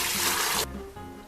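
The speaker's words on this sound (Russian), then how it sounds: "Процеженный бульон переливаем обратно в кастрюлю." Strained smoked pork rib broth for pea soup is poured from a sieve back into a cooking pot, a brief rushing pour that cuts off abruptly after about half a second, followed by faint trickling.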